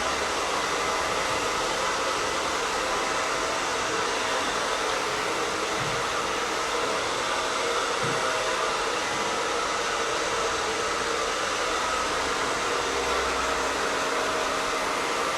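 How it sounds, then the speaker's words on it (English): A hair dryer blows steadily and loudly at close range while a short graduation haircut is blow-dried flat, its broad rushing hiss unbroken for the whole stretch. "When blow drying, just working nice and flat, just moving the hair around slightly"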